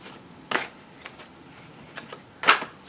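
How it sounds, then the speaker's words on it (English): A Morgan Greer tarot deck is shuffled in a quiet room, with two or three short, crisp riffling bursts separated by soft card taps. "So I'm shuffling the Morgan Greer deck."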